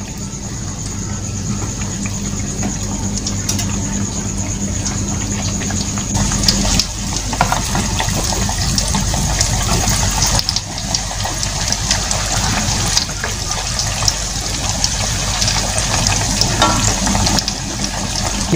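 A folded snack made from two ingredients fries in a pan of hot oil, giving a loud continuous sizzle and bubbling hiss with occasional clatter as pieces are turned.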